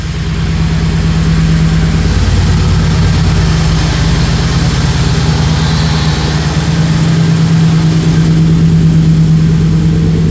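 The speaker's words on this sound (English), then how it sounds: "Exhaust sounds good." A Ford Marauder fitted with a swapped SVT Cobra engine idles steadily through a custom exhaust, giving a loud, close, continuous low rumble with an even throb and no talking.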